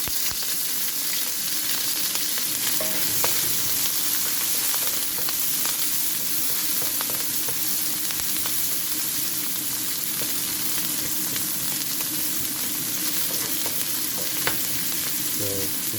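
Onion fries in cooking oil with a loud, continuous sizzle and crackle, joined by occasional soft stirring scrapes and faint clicks of a utensil in the pan.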